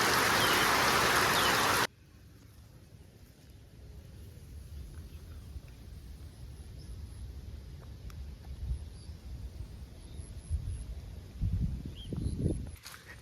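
Rain falling on an afternoon: a loud, dense burst of rainfall for about two seconds, then a much quieter wet outdoor background with soft scattered drops.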